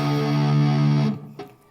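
A distorted electric guitar plays a short burst of a riff, a sustained heavy chord ringing loud and close before cutting off, followed by one brief picked hit.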